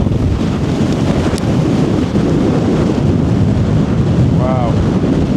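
A strong gale roars across an exposed hilltop in the Peak District, a dense, continuous buffeting rush hammering the microphone at close range with no letup.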